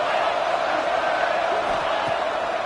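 Football stadium crowd at a Tennessee vs Ole Miss game, a loud sustained roar of cheering that fills the space without break.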